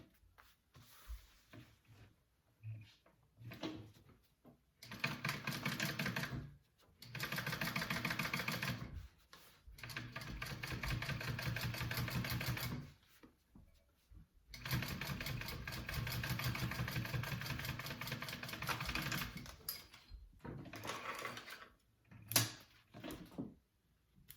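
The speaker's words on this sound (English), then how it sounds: "We're top stitching on that piece, on that side." A sewing machine topstitches a card slot piece for a wallet in several bursts of steady whirring, each a few seconds long, separated by short pauses, fairly close with no talking.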